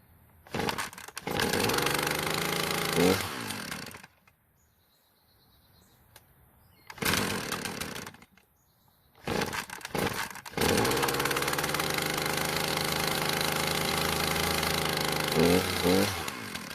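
A small two-stroke Poulan string trimmer engine, running on choke, is pulled to start, sputters and cuts out twice, then catches and runs loudly with a buzzing drone.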